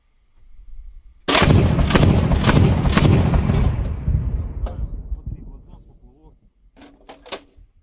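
A sudden, very loud salvo of rapid booming rocket artillery launches firing cluster munitions roars nearby in the Donbass war, then fades into rumbling, with scattered voices afterward.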